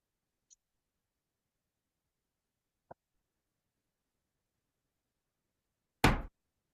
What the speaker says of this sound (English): Just wanted to give my office door a lock real quick.